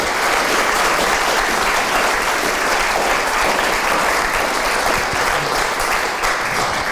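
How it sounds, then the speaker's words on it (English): An audience claps steadily at the close of a museum lecture on Dutch immigrants, dense and loud throughout without pause. "everybody should give Andrew another round of applause"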